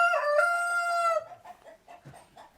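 A rooster crows once, loud and close, a long ringing call that trails off into soft clucking and rustling.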